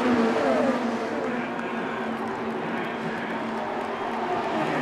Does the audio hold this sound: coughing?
no